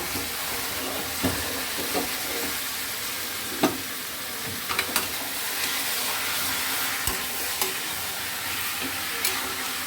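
Chicken curry with tomato paste, ginger, garlic, green chilli and ground spices is stirred in a pan, a continuous sizzle and fry hiss broken by occasional sharp scrapes and clicks of the spoon against the metal.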